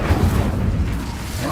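Incendio fire spell cast in the video game Hogwarts Legacy erupts as a short, loud fiery whoosh with a low booming rumble, heard alone.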